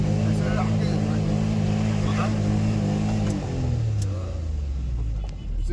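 A manual car's engine revs steadily with its accelerator stuck, a loud, close drone that holds high, dips slightly and then drops in pitch, with voices talking faintly underneath.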